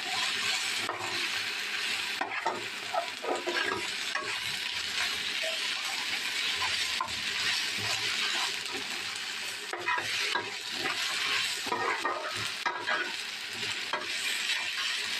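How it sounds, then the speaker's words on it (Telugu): Ginger garlic masala paste frying in a pan, a dense continuous sizzle with frequent scraping stirs and metallic clinks of a spoon against the pan, close and steady throughout with no talk. "ఇదిగోండి అల్లం వెల్లుల్లి మసాలా పేస్ట్ అనమాట వేసేస్తున్నాం"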